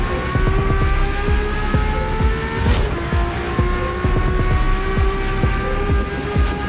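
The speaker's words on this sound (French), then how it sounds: "c'est un moteur M5 V10. C'est le plus puissant Atmo qu'ils ont fait chez BMW" A naturally aspirated BMW M5 V10 engine fitted in a lightweight car drones loudly and close, a steady high-pitched howl with rapid ticking pulses underneath and no talking.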